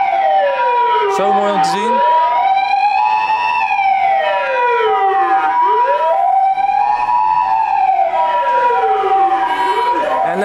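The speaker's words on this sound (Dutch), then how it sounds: "er moet gewoon een ambulance, er moet gewoon hier langs. Zo druk hier en in één keer ambulance." An ambulance siren wails loud and close as it pushes through a dense crowd, its rising and falling sweeps repeating steadily throughout while someone speaks over it.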